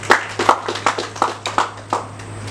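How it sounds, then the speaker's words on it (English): Scattered hand claps at a Gambia Chamber of Commerce event, a handful of people clapping unevenly at close range, light and brief rather than a full ovation. "Just give a round of applause to Auntie Beatrice."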